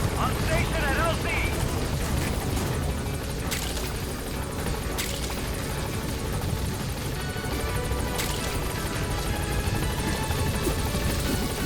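In Metal Gear Solid V, the B-Quad support helicopter thunders in at a landing zone, a loud, continuous rotor roar and engine drone close by, with a voice speaking over it.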